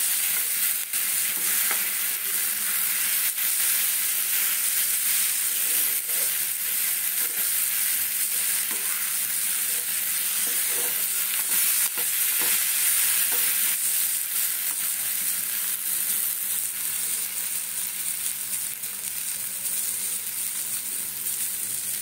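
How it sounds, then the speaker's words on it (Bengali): Raw poppy seeds stirred in a hot frying pan make a loud, continuous sizzling hiss with a dry scraping texture, steady throughout with no talk. "পোস্তটা দিয়ে এইভাবে একটু কাঁচা পোস্তটাকে একটু নাড়িয়ে দেবো।"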